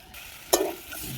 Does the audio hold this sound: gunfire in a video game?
no